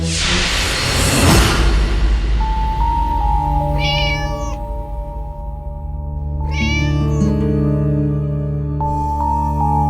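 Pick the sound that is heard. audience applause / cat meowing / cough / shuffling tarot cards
cat meowing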